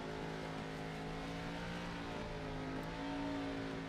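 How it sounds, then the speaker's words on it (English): A race car holds a high, steady engine drone during a burnout after a Loudon oval race, its tone wavering slightly and rising near the end, distant and continuous with no talking. "A beautiful, beautiful burnout."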